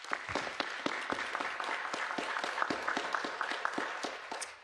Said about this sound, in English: Can we give them all a round of applause, please?